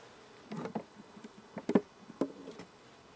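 Honey bees buzz at an open hive in a few short, soft bursts close by, over a quiet background.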